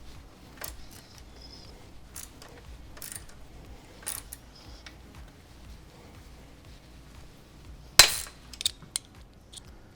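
A torque wrench tightening bolts on bikepacking gear to 5 newton meters gives a few faint, spaced ratcheting clicks and small metallic taps in a quiet space, ending with one louder sharp clack near the end.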